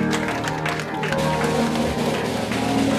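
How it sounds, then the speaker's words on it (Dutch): A studio audience gives a continuous round of applause for Jan, a strawberry grower on a tea-time television programme, a close, even wash of clapping with faint voices underneath. "Geef een hard applaus."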